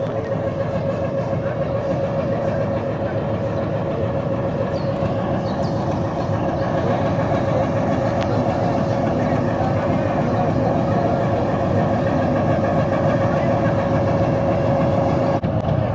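Narayanganj commuter train running on a very old railway line, a steady loud rumble of rolling wagons with faint rail clatter throughout, a sustained tone riding over the continuous noise.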